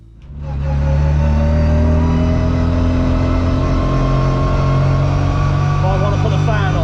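A rally car engine on a test drive roars up quickly and holds a loud, steady drone close by, with a rising pitch toward the end.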